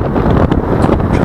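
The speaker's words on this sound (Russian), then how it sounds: "Ветер такой, что боюсь, ничего не будет слышно." Strong wind blasts across the microphone on a St. Petersburg street near the St. Petersburg Arena, a loud, close, continuous rumble with sharper gusts.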